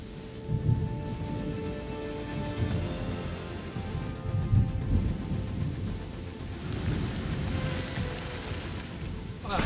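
Steady rain falls outdoors during an off-road rally raid in Témiscamingue, a constant close hiss of drops with low rumbling underneath and people talking quietly through it.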